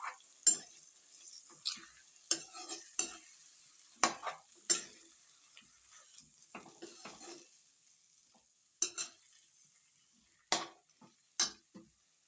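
Vegetables being stirred in a frying pan, with a quiet sizzle under a series of sharp scraping and clinking strokes that come at irregular intervals, close by and with no talk.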